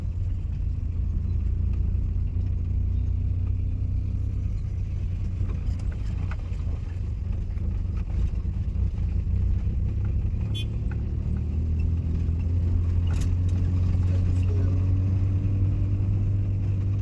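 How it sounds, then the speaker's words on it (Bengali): A car moving slowly in second gear on a main road during a driving lesson, giving a steady low engine rumble with road noise throughout, fairly close and even in level. "ক্লাচ করো পুরো, সেকেন্ড গিয়ার করো, স্লো যেতে হবে"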